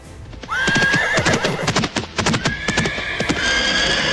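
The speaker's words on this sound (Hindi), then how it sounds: "अचानक घोड़ों की तेज आवाज आती है।" Horses neigh loudly with rising whinnies over fast, close clip-clop hoofbeats, a dramatic galloping approach of mounted royal soldiers heard clearly throughout.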